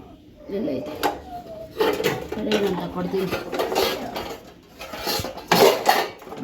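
Dishes, pots and pans being washed by hand in a home kitchen after cooking cabbage sambar, with clattering metal and cutlery knocks and splashing in irregular bursts, close by, while people talk over it.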